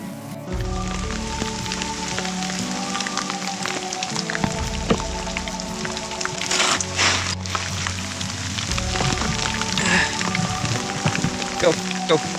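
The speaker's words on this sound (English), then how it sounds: "The hail is getting bigger." Small hail mixed with rain pelting down fast on a mountain section of the Continental Divide Trail, a dense steady patter of tiny impacts with a brief louder burst partway through, close around the listener.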